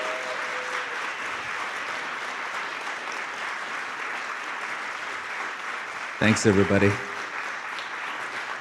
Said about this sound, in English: join me in just a huge round of applause for Clayton and thank him?